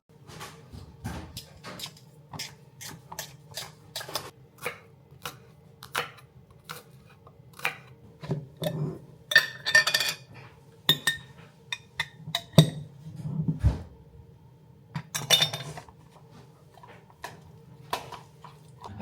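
Canned tuna is mixed in a bowl at home, with a spoon giving repeated light clinks and scrapes against the bowl in an uneven rhythm, close and fairly quiet.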